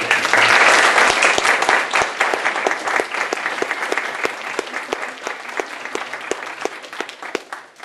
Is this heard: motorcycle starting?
no